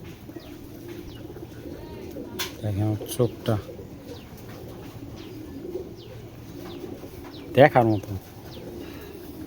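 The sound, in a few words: giribaz pigeons cooing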